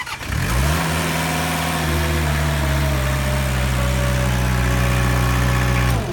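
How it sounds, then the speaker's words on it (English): Engine of a machine with a Murphy switch being cranked and started, then settling into a steady, loud, close idle with a constant low drone that holds for several seconds before cutting off. "When you crank the engine, you will push down on the Murphy switch for a few seconds to get the machine going."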